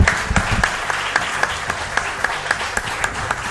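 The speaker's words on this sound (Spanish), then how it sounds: "Un aplauso os pido para ellos." An audience applauds steadily throughout, a dense wash of clapping with individual claps popping out rhythmically.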